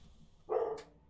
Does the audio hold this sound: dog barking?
yes